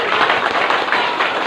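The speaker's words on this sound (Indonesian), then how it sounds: "Tepuk tangan." Audience at a religious lecture clapping together, a dense, loud burst of many hands applauding close by, steady throughout the brief moment.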